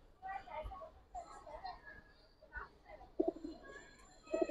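Pigeons coo softly in repeated low, throaty calls amid faint background voices and indistinct chatter.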